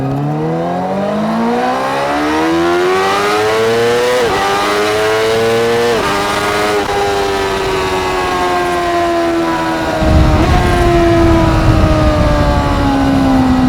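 A Honda CBR600RR sport bike revs hard through the gears, its loud close engine whine climbing in pitch, dropping briefly at each shift, then climbing again, with rushing wind building toward the end.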